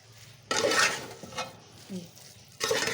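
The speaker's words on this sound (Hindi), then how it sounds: "ये हम भुनाई कर रहे हैं" Carrot halwa being roasted and stirred in a pan, with bursts of scraping and spatula strokes against the metal, close by, separated by quieter pauses.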